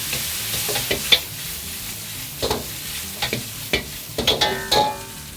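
Beef dry-frying for gan bian niu rou in a hot wok, with a soft steady sizzle as the moisture cooks off, broken by scattered scrapes and taps of stirring and a few sharp clinks of metal, no voices.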